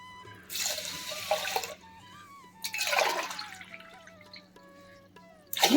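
Water poured from close by in three separate bursts, splashing into a cooker, with quiet pauses between and no talk.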